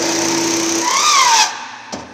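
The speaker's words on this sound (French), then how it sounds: "là c'est l'atelier de menuiserie avec les machines à bois traditionnelles, les scies, les toupies, les mortaiseuses" A traditional woodworking machine in a joinery workshop whines at high speed, its pitch sliding upward before spinning down abruptly, followed by a single sharp knock.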